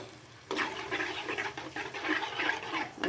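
Water poured into a pan while cooking rava kichadi with coconut, a steady rushing splash that starts suddenly and carries on close and moderately loud, with no talking.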